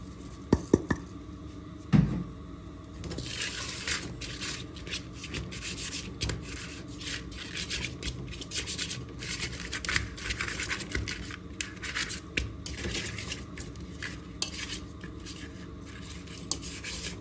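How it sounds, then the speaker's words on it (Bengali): Raw hilsa fish pieces being rubbed and mixed by hand with turmeric, salt and chili in a metal pot, a steady close scraping and squelching with occasional clinks of the bowl, no talking. "আর হলুদ, লবণ, মরিচ দিয়ে দিলাম মাছটা মাখানোর জন্য"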